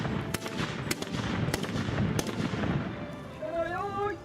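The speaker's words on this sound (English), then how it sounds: "The firing sound of a matchlock was considered terrifying on the battlefield." Several sharp matchlock gun blasts ring out at irregular intervals over a rumbling background, followed by a voice speaking at the end.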